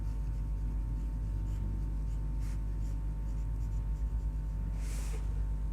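Pen scratching steadily across paper while a maths equation is written out, quiet and close with a faint constant hum underneath and no talking.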